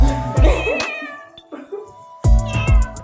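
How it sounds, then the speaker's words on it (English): A cat meows loudly and close up: a long drawn-out meow, then a quieter stretch, then a rapid burst of short cries at the end, with no talking. "The iconic cat."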